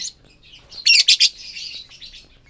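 Close, shrill chirping from lovebirds, pied and pastel color varieties, in a short burst of rapid high tweets with quieter calls before and after, no talking.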